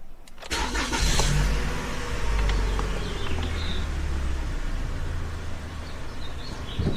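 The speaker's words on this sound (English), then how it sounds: "I'm going to start the car and pump the brakes to compress the piston." A Toyota Camry L engine cranks and catches, then settles into a steady close idle rumble, with faint birdsong outside.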